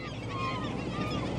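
Many kinds of seabirds calling near an island in Alaska, honking goose-like cries overlapping continuously against steady background noise, with no voices.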